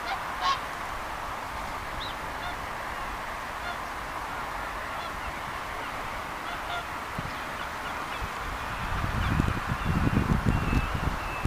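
Geese honk during a walk on a sunny morning in North Scale, the oldest part of the island, a few brief calls heard over steady outdoor wind and ambient noise.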